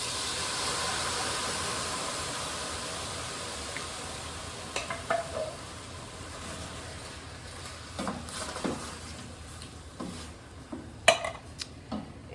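Diced tomatoes go into a hot pan with a broad sizzling hiss that slowly fades, followed by scattered scrapes and clinks as a utensil stirs them.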